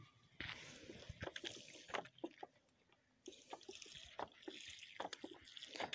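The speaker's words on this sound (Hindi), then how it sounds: "अब इसके बाद हम इनको पानी देंगे" A pot sown with spinach and fenugreek seeds is watered with a shower-style spray, making faint, irregular patters, drips and trickles in soft bursts close by. No one talks.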